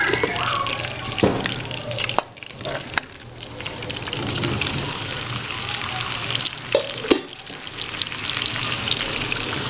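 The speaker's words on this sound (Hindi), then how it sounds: "3 पाव टमाटर ये हम इसमें ऐड कर रहे हैं" Halved tomatoes go into a pan of frying beef or mutton, giving a loud, steady, close sizzle with crackling and a few clatters from stirring, and no talk.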